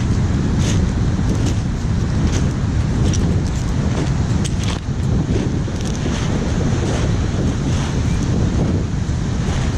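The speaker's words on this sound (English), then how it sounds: "What a gorgeous little beach." Surf rolling in at La Push beach in Washington, with choppy waves crashing continuously and heavy wind buffeting the microphone, loud and close for the whole stretch, no voices.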